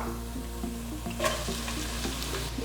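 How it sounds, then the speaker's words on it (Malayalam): Onion sautéing in a pan with ginger and green chilli, a steady close sizzle broken by a few soft stirring scrapes and clicks, with no voices. "ഈ ഉള്ളി നന്നായി ഒന്ന് വഴറ്റി കൊടുക്കാം"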